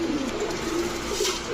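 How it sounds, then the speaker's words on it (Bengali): Pigeons in a loft of high-flyer and racer birds cooing, a low soft rolling coo repeating steadily over a faint background hiss. "এটাও মাদি কবুতর।"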